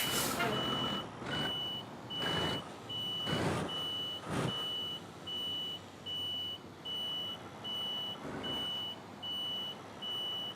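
Truck reversing alarm in Euro Truck Simulator 2, a steady run of loud evenly spaced beeps over a low engine rumble, with a few louder broadband thumps early on and no talking.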